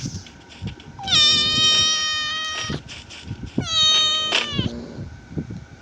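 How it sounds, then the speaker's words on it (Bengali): A pet cat meows close by, two long, loud, drawn-out wailing meows with quieter sounds around them and no talking. "আমার ক্যাটের সাথে দেখা করো তোমরা ওর নাম নিকো"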